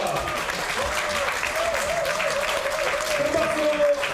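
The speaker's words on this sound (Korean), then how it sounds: "큰 박수 환영해 주시기 바랍니다" At a Korean party election-night event celebrating a Seoul mayoral win, the gathered audience keeps up moderate, steady applause with a faint murmur of voices mixed in underneath.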